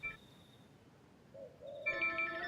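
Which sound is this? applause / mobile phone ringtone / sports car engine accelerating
mobile phone ringtone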